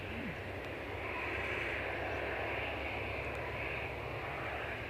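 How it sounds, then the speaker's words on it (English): An EasyJet airliner arriving at Edinburgh Airport from Lisbon, heard as a faint, distant and even jet rumble that holds steady throughout without any talk. "coming in as an EasyJet from Lisbon"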